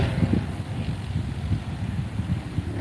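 Wind blows outdoors at a landfill as a steady low rumble of buffeting gusts across the microphone, close and fairly loud, with no speech.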